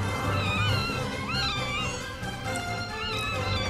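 Frightened cats in the animated film FoodFight let out high, wavering yowls and meows over a loud, continuous cartoon soundtrack.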